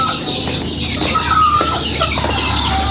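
Chickens cluck and chatter close by at a small, clean backyard poultry farm, where banded chicks are kept, a busy overlapping flock with a rooster audible among them.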